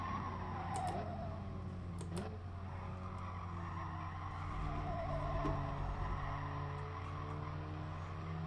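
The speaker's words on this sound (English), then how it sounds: "we're going to again brake quite hard here" Race car in GT Sport braking hard into a corner, engine whine shifting pitch over a steady motor drone while tires squeal and skid, sustained and fairly quiet throughout.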